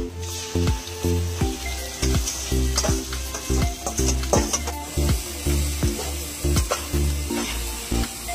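Onion frying in a pan as ginger and garlic paste is added, a steady close sizzle broken by repeated stirring scrapes and soft squishy clatter throughout.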